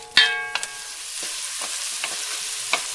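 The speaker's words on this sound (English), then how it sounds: "now I'm going to add my onions, and they'll start to sizzle in a second" Onions sautéing in a pan for butternut squash soup, a steady soft sizzle with a sharp clatter of a utensil at the start and a few faint stirring scrapes over the continuous frying hiss.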